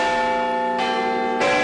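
Big Ben, the great bell in the clock tower in London, tolls loudly and close, a sustained ringing tone with long harmonic overtones that is struck again partway through and swells as the next stroke lands.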